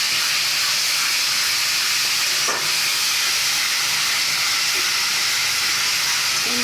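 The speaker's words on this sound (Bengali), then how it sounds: "দেওয়ার পরে তারপরে আমি পটলগুলোকে ঢেলে দেবো।" Pointed gourd (potol) fries in hot oil over a high gas flame, a loud, steady sizzling hiss that fills the scene without a break, with no talking.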